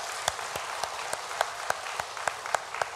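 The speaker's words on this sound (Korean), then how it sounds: "박수로 축하하겠습니다" A church congregation claps during a Sunday service, sparse and fairly quiet, with a few distinct sharper claps popping out at a loose, roughly regular pace over a soft background.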